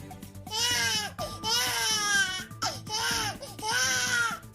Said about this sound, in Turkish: 4 aylık bebeğimiz Mahmut Samet bu şekilde ağlayıp duruyor.